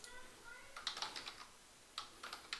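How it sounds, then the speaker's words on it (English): Quick keystrokes on a computer keyboard come in two short bursts of rapid, close, light clicks, with a pause of near silence between them. "so I'm gonna type that here."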